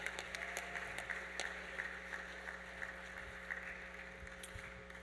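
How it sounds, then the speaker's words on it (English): An audience at a fire and EMS awards ceremony gives sustained, fairly distant clapping over a constant low hum from the room's sound system. "Warm round of applause."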